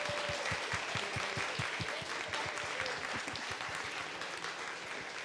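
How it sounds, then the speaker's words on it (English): A conference audience applauds its panelists, a dense patter of many hands clapping at a steady moderate level in a hall, fading slightly toward the end. "can we get a round of applause, please, for our wonderful panelists?"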